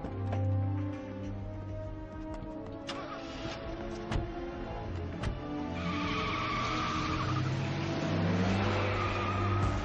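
Tires screech and an engine revs as a car accelerates away in an action film scene, the squeal rising over a dense background of score and effects for several seconds.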